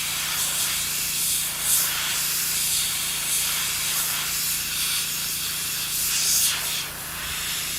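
An airbrush hisses in a continuous, fairly loud spray while paint goes onto Frosthaven miniatures, swelling slightly in two brief bursts and otherwise holding a steady airy rush.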